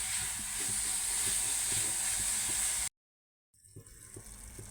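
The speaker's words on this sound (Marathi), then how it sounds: "गूळ आणि खोबरं आपल्याला एकसारखा परतून घ्यायचा आहे" Jaggery and grated coconut sizzle and fry together in a pan while being sautéed for sweet modak filling, a steady close hiss with small stirring clicks, cutting out briefly before the sizzle resumes more faintly.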